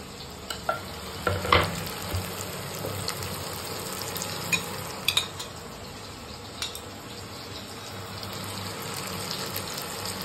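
Chopped onions with salt and turmeric fry in hot oil in a home kitchen pan, a steady close sizzle with a few louder clatters and scrapes of stirring early on.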